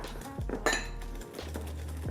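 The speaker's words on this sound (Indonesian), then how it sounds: "bahan-bahan keringnya aduk dulu sampai rata" Dry ingredients for honey-coated fried bananas are stirred in a bowl, with a spoon clinking and scraping against the sides in a steady run of near, moderately loud knocks and rattles.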